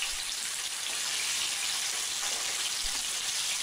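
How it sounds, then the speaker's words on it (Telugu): Cleaned mutton liver pieces sizzle in four or five tablespoons of hot oil in a pan, a dense, steady hiss with faint crackles throughout, close up and with no voices. "ఆయిల్ హీట్ అయిన తర్వాత శుభ్రం చేసుకున్న లివర్ను ఆయిల్లో వేసుకోవాలి"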